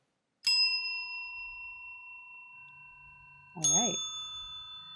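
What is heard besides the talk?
random-timed bell sounds coded in Sonic Pi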